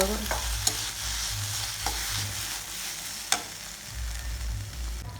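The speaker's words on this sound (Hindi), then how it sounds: "पहले बढ़िया से भून देबो ताकि लहसुन और अदरक के पेस्ट बढ़िया से मिल जाए" Ginger garlic paste sizzles and fries in a pan, with a steady crackle broken by a few sharp scrapes of stirring, close up.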